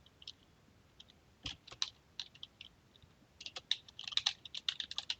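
Someone types an email address on a computer keyboard, with sparse key clicks at first that build into a quicker run of close, light taps near the end.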